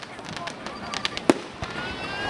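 Independence Day fireworks burst at a distance, scattered pops and one sharp loud bang over a noisy crowd, with people talking and exclaiming.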